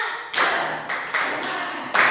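Children in a primary school classroom clap a rhythmic spirit clap, several bursts of loud, close clapping in an uneven pattern with brief gaps between them.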